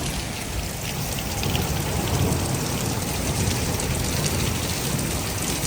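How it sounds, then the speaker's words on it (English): Heavy rain pours steadily in Minnesota, a dense, loud, continuous hiss and patter of drops striking surfaces nearby, with no talking. "It's raining a lot."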